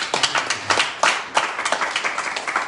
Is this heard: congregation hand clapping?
yes